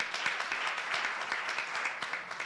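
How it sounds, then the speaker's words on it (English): An audience at an arts conference gives a round of applause, a dense, even patter of many hands clapping at moderate distance that carries steadily throughout. "So let us give them a round of applause."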